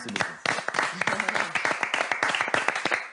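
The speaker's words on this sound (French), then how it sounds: "On a envie de vous applaudir. Bravo" A studio audience at a French television show bursts into applause, a dense run of quick claps filling the stretch with steady intensity, while voices also come through.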